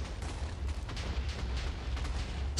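An explosion set off for the sport of explosion chasing sounds as a heavy, booming low rumble with crackling bursts scattered through it, loud and continuous for a couple of seconds with no voices.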